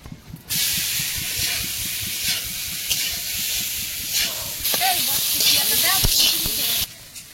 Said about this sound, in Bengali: আলুটা ভেজে নেবো এবারে।